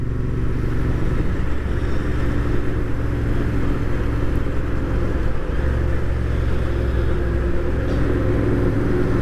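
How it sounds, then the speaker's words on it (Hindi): A Royal Enfield Interceptor 650 twin-cylinder motorcycle cruises at about 3000 rpm, its engine a low, even, continuous rumble with steady wind and road noise, unchanging throughout. "तीन हज़ार पे ही हूँ तो बाइक की आवाज़ सुनाई भी बहुत कम देती है"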